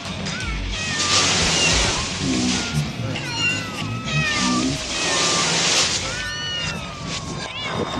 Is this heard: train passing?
no